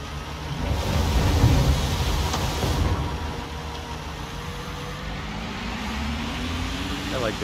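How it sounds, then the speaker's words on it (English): A wheel loader's engine in Construction Simulator rumbles steadily at low pitch, swelling louder early then settling into a continuous drone, with a voice talking over it. "I like this wheel loader."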